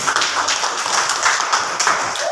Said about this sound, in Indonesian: tepuk tangan untuk Taufik.